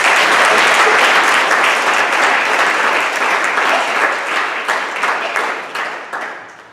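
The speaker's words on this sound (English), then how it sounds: "So let's give her a round of applause." Sustained applause from an audience at a school board of education meeting honoring a counselor award recipient, steady and dense at first, then thinning and fading toward the end.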